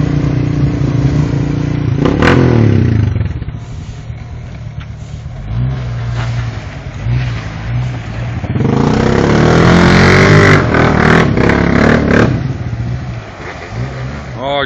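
A four-wheeler ATV with a broken CV axle revs hard while spinning in mud, its engine surging up in loud close bursts with clattering and splatter, rising to a roaring peak midway before settling.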